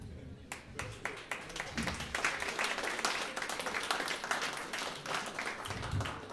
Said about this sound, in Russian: аплодировать, если хочется.